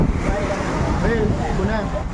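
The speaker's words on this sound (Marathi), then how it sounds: "संध्याकाळी समुद्र बघायला आलेलो." Evening sea waves roll in at Agnitheertham beach in Rameshwaram, a steady, close surf wash with wind, while people talk faintly nearby.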